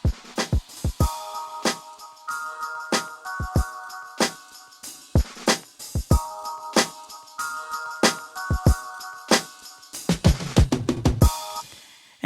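A punchy electronic drum beat made in Reason and processed for a harder hit plays on its own, with tight kicks and crisp snares in a steady loop, followed by a denser fill toward the end.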